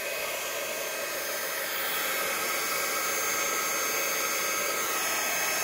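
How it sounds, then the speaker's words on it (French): Heat gun blowing on alcohol ink for scrapbooking, a steady close airy roar with a constant whine running unbroken, no other sounds. "j'ai pris le heat gun."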